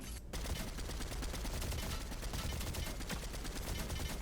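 Rapid automatic gunfire from a shooter video game, a dense continuous burst of shots that stays loud for several seconds with no talk.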